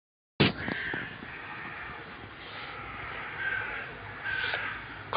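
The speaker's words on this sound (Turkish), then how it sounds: "Kargalar av peşinden." Crows caw repeatedly in the open, their harsh calls rising over steady outdoor background noise.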